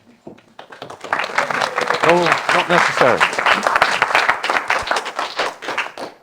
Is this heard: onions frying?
no